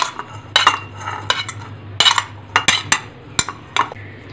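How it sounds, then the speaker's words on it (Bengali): Chopped onion, green chilli, capsicum, tomato and coriander are tipped and scraped into a bowl with a spoon, giving a run of close, irregular clinks and scrapes against the bowl with short pauses between them. "সবগুলোকে আমি এই বোলটার মধ্যে নিয়ে নেব।"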